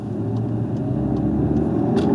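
A 2018 Skoda Octavia RS launches hard with wheel hop, giving a steady, loud low engine rumble through the whole stretch, with faint repeated thumps from above as the wheels hop.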